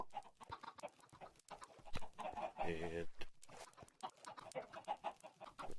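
Minecraft chickens on an underground chicken farm give repeated short clucks at moderate volume, mixed with someone talking intermittently.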